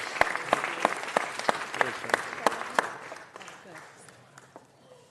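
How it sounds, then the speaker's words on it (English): A small group at a local council recognition ceremony claps in sharp, distinct, fairly regular beats that grow fainter and thin out toward the end. "So let's give them a round of applause"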